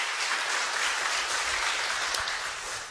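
A congregation at a church service claps steadily and warmly, dense applause filling the room at an even level before tapering slightly at the end.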